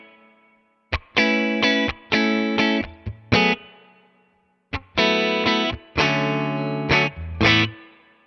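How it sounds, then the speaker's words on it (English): An electric guitar plays through a Morgan amp with reverb and dwell both set at noon, giving distorted chord stabs in two rhythmic phrases, each strum followed by a short, dark reverb decay into near silence. "But reverb at noon and the dwell at noon sounds like this."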